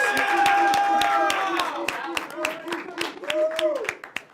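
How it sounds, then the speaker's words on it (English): An audience claps on a college evening talk show, scattered distinct hand claps over a few seconds mixed with lingering music tones and voices. "I think that deserves another round of applause."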